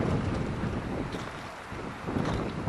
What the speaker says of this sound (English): the wind is keeping you cool as well because it is a bit of a slog on the way up